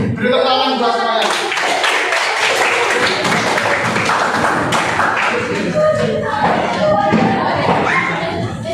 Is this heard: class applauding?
yes